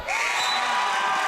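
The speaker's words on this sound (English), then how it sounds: "The West Salem faithful are letting him hear it here." A home crowd at a high school basketball game raises a loud, sustained roar of jeers and shouts aimed at an opposing player, with voices blending into one dense wall of noise.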